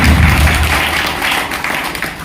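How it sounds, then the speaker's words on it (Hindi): Applause from a seminar audience during a business plan presentation: a steady, dense wash of many hands clapping that carries through the full span at a strong, even level before easing slightly near the end. "एक जोरदार तालियां होनी चाहिए उनके सम्मान में।"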